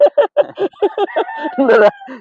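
Several short rooster crows and clucks in quick succession, loud and close, with a longer ragged crow near the end.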